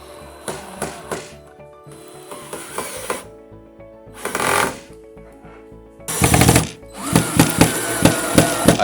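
A drill fitted with a Phillips screwdriver bit drives screws into a wooden off-road scooter board, loud whirring bursts with pauses between screws and ratcheting clatter as each one seats.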